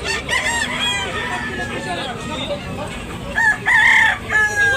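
A rooster crows loudly near the end, a bright strained call rising over background chatter and other fowl sounds, at a rooster sale in Tabunok, Talisay, Cebu.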